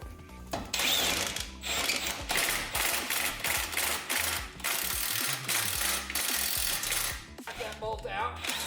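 A ratchet wrench works a bolt free from a Ford Focus ST engine during engine removal, with loud, fast, continuous clicking at close range and short pauses between bursts.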